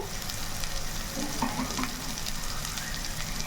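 Masala spices sizzle in hot oil in a pan, a steady crackling fry with faint scraping from stirring, close and moderately quiet.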